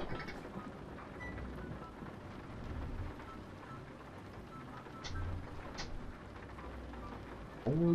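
Steady rain hissing across the whole stretch in Euro Truck Simulator 2 played in virtual reality, with a faint low rumble underneath and a sharper noise at the very end.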